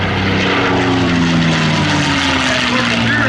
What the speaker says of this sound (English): Here comes the Mustang.